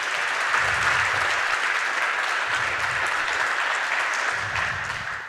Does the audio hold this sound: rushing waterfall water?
no